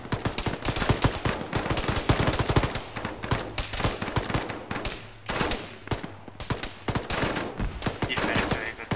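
A squad in ArmA lays down sustained fire, rapid cracking shots and machine-gun bursts overlapping in a steady barrage from nearby, with faint radio voices beneath.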